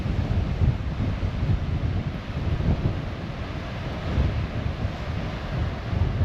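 Strong wind blows steadily at the coast on the way to Steep Point, buffeting the microphone with a deep, continuous roar and no speech.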